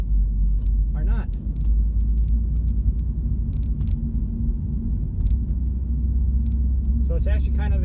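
A 2014 Ford Focus hatchback with a 5-speed manual gearbox on the road: steady low engine and road rumble from inside the cabin, with someone talking over it throughout.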